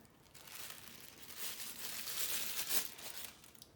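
Plastic packaging crinkles and crackles while being cut out of a Dollfie Dream 2B doll box, with quiet close rustling that swells in the middle and then fades.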